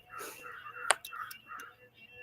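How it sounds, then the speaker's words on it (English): Several crows caw loudly outdoors in a series of harsh calls, with one sharp burst standing out near the middle, close and prominent with no talking. "crows are making a loud noise over there."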